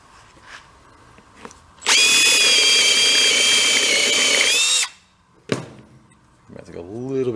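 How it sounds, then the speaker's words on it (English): A power drill whines steadily for about three seconds while opening a hole in metal on a busted 8HP shop vac, followed by a brief clunk and another short burst of drilling as a voice begins. "Let's go drill that open"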